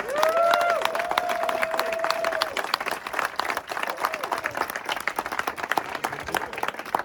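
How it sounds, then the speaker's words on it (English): An audience at an open-house gathering breaks into applause, opening with whoops and cheers over dense clapping, then settling into steady, scattered clapping that gradually thins. "And congratulations and applause"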